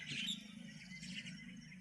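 Birds feed on scattered rice, with faint chirps and tweets over a steady low background hum, distant and continuous.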